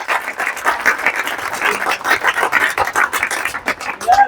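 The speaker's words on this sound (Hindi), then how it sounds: "जोरदार ताली बजाओ यार।" Loud, dense clapping from a group at a running academy, rapid and sustained throughout after a girl's 800-metre run, without pause.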